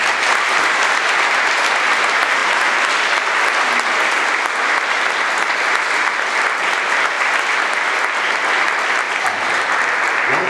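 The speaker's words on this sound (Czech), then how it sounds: "Takže potlesk pro ní." Loud, sustained applause from an audience at a town personality award ceremony in Chrudim, an even, unbroken roar of many hands clapping close by for the full stretch.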